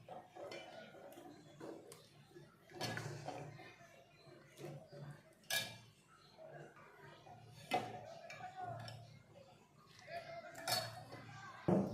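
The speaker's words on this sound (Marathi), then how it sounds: "तर चला आता आपण एका प्लेटमध्ये काढून घेऊया।" Cooked drumstick (shevga) bhaji is served onto a plate in a home kitchen, with scattered soft clinks and scrapes of a utensil against the plate and pan, faint and intermittent.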